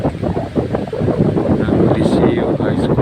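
Gusty wind buffets the microphone near open water, a rough continuous roar rising and falling without a break.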